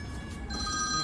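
A phone rings with a continuous electronic tone, loud and close, filling the moment alone without talk.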